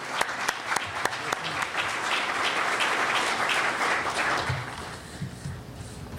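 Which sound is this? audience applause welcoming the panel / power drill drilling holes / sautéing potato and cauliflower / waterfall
audience applause welcoming the panel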